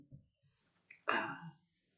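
A single sharp cough rings out after a couple of soft throat sounds, close and fairly quiet in an otherwise silent room.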